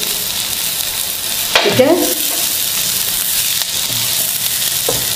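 Onions softening as they sauté in a pan, a loud continuous sizzle with a brief burst of stirring scrapes and a short spoken remark.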